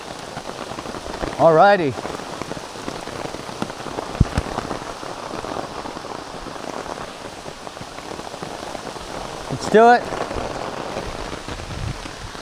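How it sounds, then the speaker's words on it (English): Steady rain pattering on umbrellas and surrounding ground during an Appalachian Trail thru-hike, a constant close hiss with a couple of brief louder rustles, while a hiker speaks briefly. "I'll do this in the rain."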